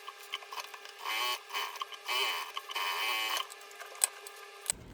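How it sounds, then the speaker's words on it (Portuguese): A sewing machine stitches around the edge of a piece of fabric with a plastic layer. Quiet rapid mechanical clatter comes in short bursts of stitching, separated by pauses and a few small clicks. "Vou fazer uma costurinha aqui em volta."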